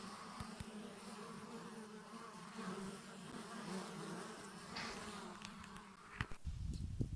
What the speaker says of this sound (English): the bees are more anxious to get in than out today.